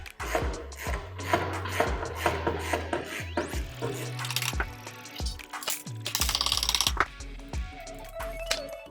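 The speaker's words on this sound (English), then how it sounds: "We're going to start by using the 15mm socket and ratchet, and we're going to undo the top mounting bolts." A ratchet fitted with a 15mm socket undoes the bumper mounting bolts on an E-Z-GO golf cart, giving repeated close, loud clicking strokes in uneven bursts with brief pauses between them.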